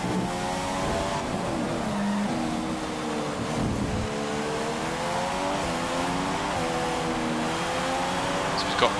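An F1 car in the F1 2015 video game, at the Australian circuit, pulls into the pit lane, its high-pitched engine whining and shifting through gears as it slows, loud and continuous throughout with faint tyre noise.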